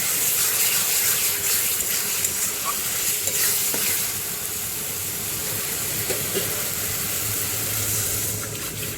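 Water poured into frying masala hisses and gurgles, then keeps sizzling steadily while a spoon stirs and scrapes through it, close and loud with no talk.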